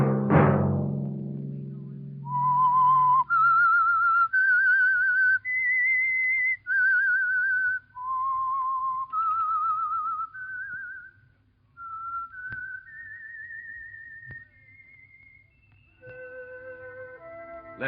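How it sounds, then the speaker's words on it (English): A lone whistled melody of sustained, gliding notes rises and falls in a tuneful phrase, serving as the theme signal for the Signal Oil radio program The Whistler, preceded by a brief low musical chord. "Let that whistle be your signal for the Signal Oil program, The Whistler"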